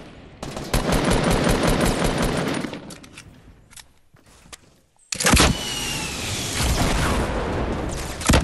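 Loud bursts of automatic gunfire in Fortnite come in two long volleys separated by a quieter gap with scattered shots, close and harsh.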